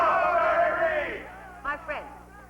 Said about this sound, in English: Let's all give a cheer for Mary Reed!